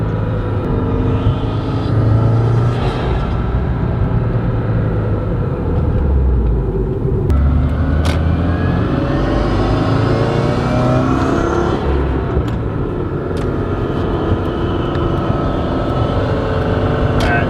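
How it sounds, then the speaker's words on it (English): Continuous heavy engine drone as a turbocharged 2015-or-later Subaru WRX with a GrimmSpeed turbo inlet drives, rising and falling with revs and gear changes, a breathy intake roar riding on top. "I can definitely hear more intake sounds with the new GrimmSpeed inlet"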